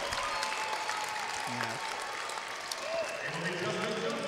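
Basketball fans in the Scotiabank Centre arena clap and cheer during an NBL Canada game, a steady crowd roar under a commentator's voice throughout.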